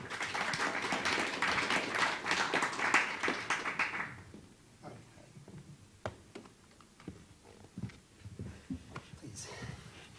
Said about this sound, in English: if you guys just give him a round of applause